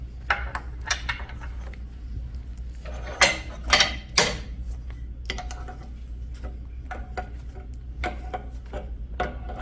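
A hydraulic grease nipple fitting is screwed tight with a wrench, giving a string of small ratcheting clicks and metallic ticks, with a short cluster of louder scrapes in the middle, close up over a low steady hum.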